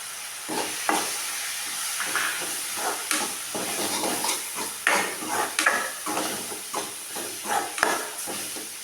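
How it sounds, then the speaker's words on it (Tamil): A spoon stirs a spoonful of sambar powder into a sizzling pan for drumstick leaf rice, giving repeated close scraping strokes over a steady hiss of frying. "நான் சாம்பார் பொடி எடுத்து வச்சுருக்கேன் ஒரு ஸ்பூன் ஃபுல்லாக இது வந்து நம்ம சேர்த்துக்கலாம்"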